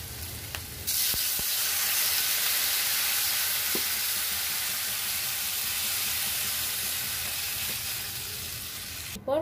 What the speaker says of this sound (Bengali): যখন কাঁচা আদা আর জিরের গন্ধটা চলে যাবে তখন আমি জল দিয়ে দিচ্ছি।